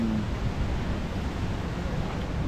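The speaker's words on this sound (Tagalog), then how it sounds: "Yan, hangin na naman" Typhoon wind blows steadily and loudly in the open, a broad continuous rush with no break and no one talking.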